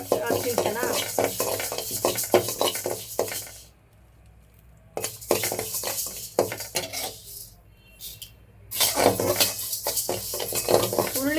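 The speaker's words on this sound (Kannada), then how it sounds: "ನೆಕ್ಸ್ಟು ಟೂ ಹಂಡ್ರೆಡ್ ಗ್ರಾಮ್ ಅಗಸೆ ಬೀಜನ ಹುರ್ಕೊಳ್ಳೋಣ" Flax seeds roast in a pan at home, with repeated clinks and scrapes of a stirring spoon against metal over a light sizzle, pausing twice into near-quiet before the stirring resumes.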